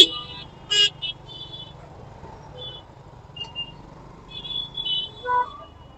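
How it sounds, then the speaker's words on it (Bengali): Stuck in a traffic jam at Asad Gate in Dhaka, with scattered car and motorbike horns honking at different distances, short toots and beeps over a low hum of idling engines. "আসাদ গেটের জ্যামে আছি।"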